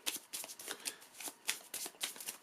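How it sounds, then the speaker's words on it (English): Rune cards from the Clans of Midgard board game being shuffled by hand: quiet, close riffling bursts in quick irregular succession, with no talk. "we shuffle them up,"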